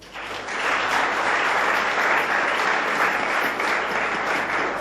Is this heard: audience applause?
yes